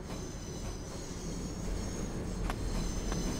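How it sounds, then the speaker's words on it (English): A train rolls through in the SimRail railway simulator game, with a steady close rumble of wheels on track and sharp periodic clicks from rail joints that grow a little louder toward the end, and no talking. "First train finally going through."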